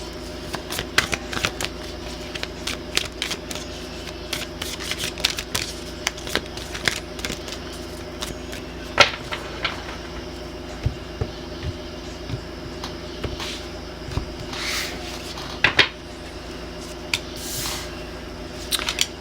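Tarot cards are shuffled close up, a steady run of soft riffling, flicking and slapping card sounds with small sharp clicks scattered throughout, fairly quiet and continuous with no talking.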